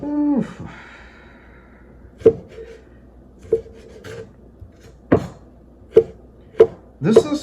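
Potatoes being chopped with a knife on a cutting board, as for Chinese fried potatoes: sharp, separate knocks of the blade, loud and close, coming every second or so, with a rubbing sound before the first cut.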